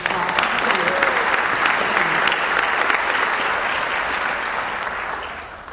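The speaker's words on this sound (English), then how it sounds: "I think we need to give her another round of applause" An audience at a community school-board rezoning meeting gives a sustained round of applause for a young student, steady and dense throughout, easing slightly near the end, with faint voices underneath.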